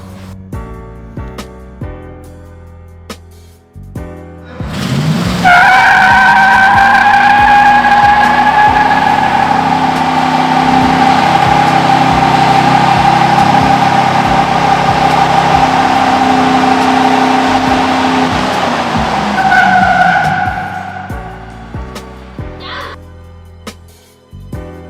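A 1966 Ford F100 pickup with a 5.7L V8 doing a burnout: the engine holds a loud, sustained high-rev roar for about fifteen seconds, then drops back toward idle.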